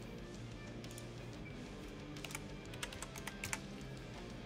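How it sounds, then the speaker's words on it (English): Soft, steady clicks from a computer keyboard as a hash rate figure is entered for a mining profit calculator, faint keystrokes over a constant fan-like hum of GPU mining hardware. "So let's go ahead and type that in."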